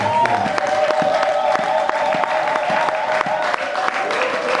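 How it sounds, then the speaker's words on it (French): A church congregation applauds steadily for several seconds. Dense, even clapping fills the room, with a faint sustained tone running beneath it. "Est-ce qu'on peut acclamer le Seigneur?"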